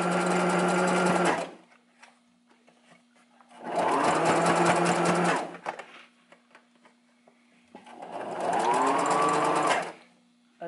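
A sewing machine stitches hair wefts onto a wig cap in three loud, steady whirring runs of about two seconds each, separated by quiet pauses with a faint constant hum.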